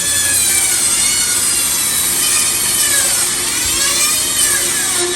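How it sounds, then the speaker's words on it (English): A bandsaw, running on improper wiring, cutting wood for a bluebill duck decoy, giving a continuous loud, close whine and rasp of blade through wood that holds steady for the whole stretch. "If I had the bandsaw wired properly, she would have cut right through that without any relief."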